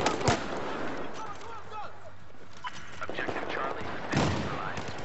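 Battlefield 4 gunfire, bursts of shots cracking out near the start and again near the end, over a constant busy battlefield din, with a voice talking through the middle.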